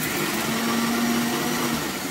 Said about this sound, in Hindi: फिर इसको मैं मिक्सी में डाल के